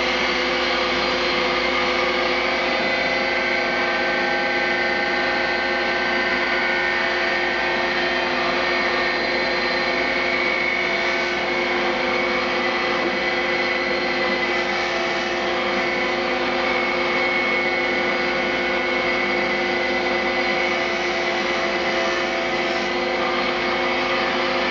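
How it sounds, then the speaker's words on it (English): A workshop dust collector runs alongside a woodworking jointer as exterior frames are milled, giving a steady, loud, continuous whooshing drone that holds evenly throughout with no speech. "But I have to put on the dust collector all the time"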